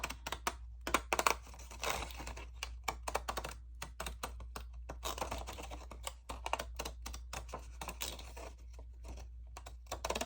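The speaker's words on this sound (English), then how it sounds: "I go ahead and cut all of this with these scissors." Scissors snip through old scrapbook paper in a quick series of close, crisp cuts. The rhythm is irregular, with short pauses between bursts and no talking.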